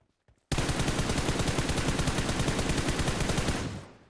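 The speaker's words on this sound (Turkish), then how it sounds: "Silah sesi oradan geldi." Sustained rapid automatic gunfire in PUBG Mobile, a steady rattling burst lasting about three seconds, loud and close, then fading out.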